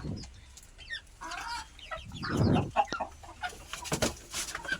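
Backyard chickens cluck close by in short, uneven bursts, with a louder squawk partway through and some rustling and scratching between calls.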